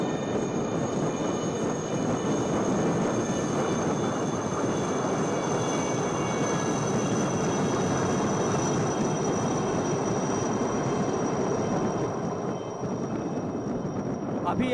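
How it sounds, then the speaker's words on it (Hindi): Six Chetak helicopters of 321 Flight, a search-and-rescue squadron, pass in diamond formation during an Indian Navy display, giving a loud, steady broadband rotor and engine roar with a faint whine that holds throughout. "Coming up next are 6 Chetak helicopters from the 321 Flight in a diamond formation."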